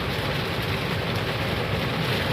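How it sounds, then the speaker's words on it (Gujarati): Heavy monsoon rain pours down over Mehsana, a dense, steady broadband roar with no breaks, loud and close throughout without any voices. "કશું દેખાતું નહીં એટલો વરસાદ પડે છે મહેસાણામાં"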